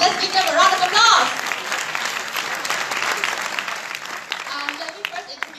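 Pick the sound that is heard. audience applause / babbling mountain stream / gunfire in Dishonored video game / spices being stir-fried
audience applause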